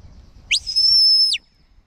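A sheepdog whistle command for a border collie during herding training: one loud, sustained high whistle with a quick rising onset and a falling end, lasting about a second, alone against quiet outdoor background.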